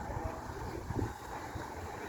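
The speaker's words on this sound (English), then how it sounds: "Cold and windy." Wind gusts buffet the microphone in low, rumbling bursts, with a steady rushing hiss behind them, on a cold day in Ventura, California.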